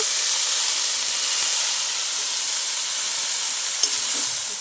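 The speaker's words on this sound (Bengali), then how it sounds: "ভালো করে মশলার সাথে আমি বাঁধাকপিটা একটু নেড়ে নেব" Cabbage fries with spices in a pan and is stirred. A loud, continuous sizzling hiss holds steady close by with no voices.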